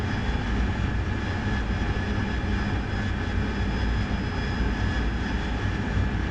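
An aircraft engine in the DCS World game holds a steady, dense droning roar throughout, loud and unbroken with no clear rise in pitch.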